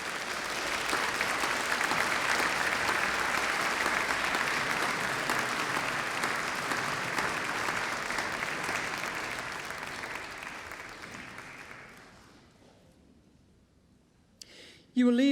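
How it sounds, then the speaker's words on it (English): Dense, steady applause rises from the crowd at a University of Manchester graduation ceremony, holding strong for about ten seconds before fading out, followed by a near-silent gap and a brief sharp noise at the very end. "please give a round of applause for the support you've had from your family and friends"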